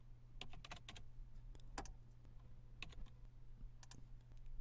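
Quiet, irregular clicks of fingers typing on a computer keyboard, short bursts of keystrokes over a low steady hum.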